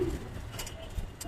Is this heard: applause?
no